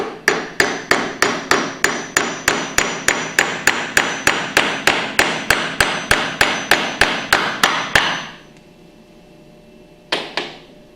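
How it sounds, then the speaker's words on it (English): A hammer taps a piston pump part into its cam bearing in about two dozen evenly spaced sharp knocks, then stops, followed by a short pause and one brief final clatter. "line that up into the cam bearing and tap it in with a hammer gently until you feel it bottom out"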